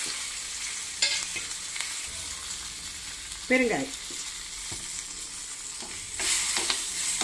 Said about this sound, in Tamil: இதை நல்லா பொரிக்கணும்.